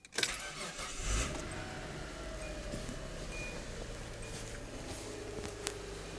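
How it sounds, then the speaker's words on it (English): A V6 car engine, 3500 cc, cranks and fires on Headway 38120 LiFePO4 cells, then settles into a steady idle, close by, with a faint click near the end. "So you can actually start a car."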